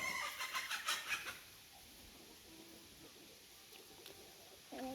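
Young chickens cluck and chirp in short bursts near the start, then quieter peeps scattered over faint outdoor background.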